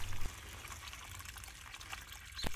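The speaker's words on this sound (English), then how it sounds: "After connecting, I filled the first flush pipe to test the valve." Water pours into a rainwater collection system's first flush pipe, a steady trickle and splash with a couple of louder bumps near the start and end.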